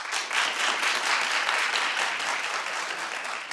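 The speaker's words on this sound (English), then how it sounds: "A smattering of people, not as many," Studio audience at a daytime talk show clapping in a steady, moderately dense wash of applause that fills the whole stretch, fairly close and even in level.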